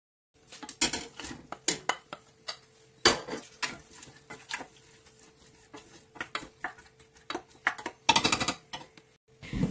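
A pestle pounds garlic and coriander in a mehrez mortar, sharp irregular knocks and clattering strikes in uneven bursts, close and clear.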